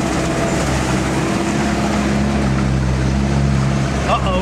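A Sherp all-terrain vehicle breaking a snowmobile trail through snow along a pipeline, its engine a loud, continuous low rumble that holds steady throughout.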